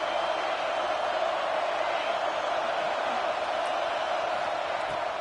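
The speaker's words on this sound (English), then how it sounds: "The roar of the crowd trying to fuel this defense to keep them pinned in their own end." A steady crowd roar filling a video game football stadium, a dense and even wash of cheering that holds at one level throughout without breaks.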